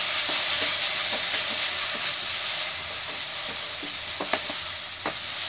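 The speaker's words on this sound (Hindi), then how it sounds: "अब हम इसमें अदरक लहसुन का पेस्ट डाल देंगे और इसे हल्का सा फ्राई करके" Ginger garlic paste fries with golden-brown onions in a pan for chole, a loud, close, continuous sizzle marked by regular stirring clicks and scrapes.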